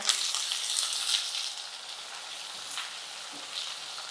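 Thin, lengthwise-sliced onion softening in a pan with cumin seeds for a soybean vegetable dish, giving a steady, soft, close sizzle that eases off slightly as it cooks.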